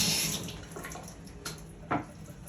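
Winemaking equipment rinsed under a running tap after a specific-gravity check during day three of fermentation, a hissing water flow that starts loud and tapers off, with a couple of brief splashes toward the end, nearby and alone.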